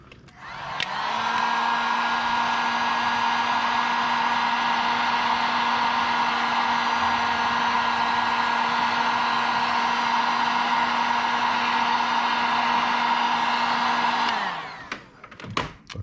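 A heat gun blows on heat shrink tubing over vehicle air-system wiring, a steady close whirring fan with a hot-air hiss that starts up, runs about thirteen seconds without a break, then winds down and clicks off.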